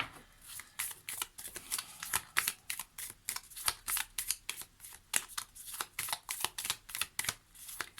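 Tarot cards shuffle in rapid riffles and flicks, a fast run of crisp, papery snaps close to the mic, fairly quiet and with no talk.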